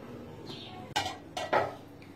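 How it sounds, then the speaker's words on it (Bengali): Lid set over a cooking pot used for stovetop cake baking, a few close metallic clanks in quick succession against a quiet background. "এই যে আমি উপরে হাঁড়িটা দিয়ে ঢাকনাটা দিয়ে দিব।"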